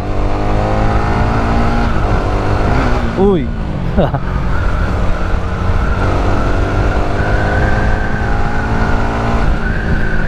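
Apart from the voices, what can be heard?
motorcycle engine revving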